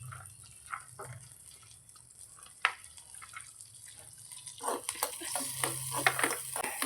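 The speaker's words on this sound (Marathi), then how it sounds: "त्या बटरमध्ये आपल्याला लसूण घालायचं आहे भरपूर सारा लसूण घालायचं आहे आणि त्याच्यामध्ये तो छानपैकी तळून घ्यायचं आहे" Plenty of garlic frying in butter in a pan, a soft, quiet sizzle broken by occasional stirring scrapes and light clinks, growing a little louder and busier toward the end.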